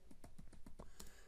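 Quick keystrokes on a computer keyboard, about eight or nine clicks in a steady run over barely a second, close and fairly quiet with no talk.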